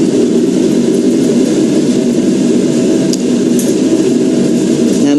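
A spin coater spins a silicon wafer, giving a steady, loud, unbroken whirring hum that holds even throughout, with a couple of faint ticks and no talking.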